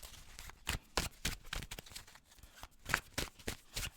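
A deck of tarot-style reading cards is shuffled by hand, producing a series of soft close riffles and slaps in an uneven rhythm, quiet and alone without talk.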